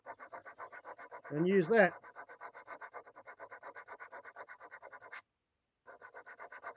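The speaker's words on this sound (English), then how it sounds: "wrap a cigarette lighter in sandpaper" A wooden tobacco pipe bowl being sanded by hand with sandpaper wrapped around a cigarette lighter, giving a rapid, even rasping rhythm with a short pause near the end; a voice briefly speaks over it.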